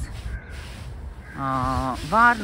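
Several crows caw harshly on a lakeshore or riverbank, loud and close, in two bursts of rasping calls following a quieter stretch.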